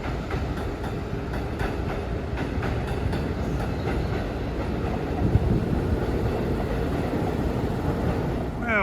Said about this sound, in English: There's train 2126 bound for New York,